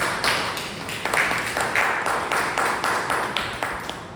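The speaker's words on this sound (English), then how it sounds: "Let's give a big round of applause." Applause from the audience at a Toastmasters club meeting, a steady wash of clapping hands that carries through the whole stretch at moderate loudness, with no talk over it.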